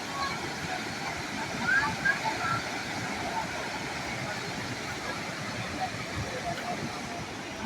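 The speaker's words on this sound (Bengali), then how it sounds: "এখানে ওই ফলসের থেকে যে জলটা পড়ছে তার একটু হালকা ছাপ মতো আসছে" Hundru Falls near Ranchi, swollen with post-monsoon water, gives a continuous broad rushing roar from some distance, with a person's voice faintly mixed in.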